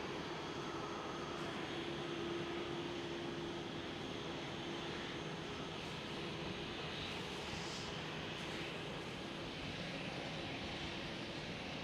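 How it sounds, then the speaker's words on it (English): British Airways City Flyer airliner taxiing at Amsterdam Schiphol, a steady distant engine roar and whine holding constant throughout with broad airport background noise. "And another British Airways City Flyer just taxied in."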